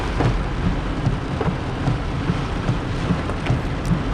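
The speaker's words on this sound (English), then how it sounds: "Rains is crazy, man." Heavy rain from a tropical storm in Negril, Jamaica hisses down continuously, with low thunder rumbling underneath the whole time.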